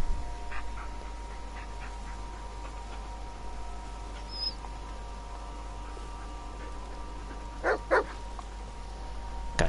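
A dog barks in the Blair Witch horror video game, giving a few short, faint barks late in the clip over a steady low hum, with no talking.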